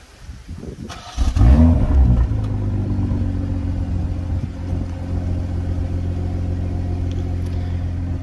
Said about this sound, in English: let's do a little remote engine start